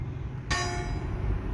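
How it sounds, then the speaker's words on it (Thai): A village bell struck in a Minecraft-like video game rings out with one clear metallic strike whose bright tone hangs and slowly fades over a low background hum. "แล้วก็ตีระฆังเล่นๆด้วยครับ"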